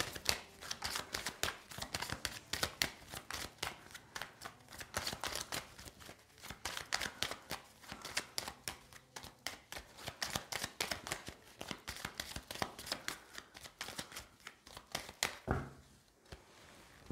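Tarot cards shuffled continuously in a dense, rapid riffling and flicking rhythm, close up and steady, fading out at the very end.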